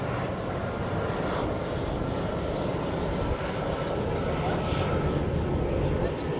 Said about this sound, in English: That plane is coming from Bilbao.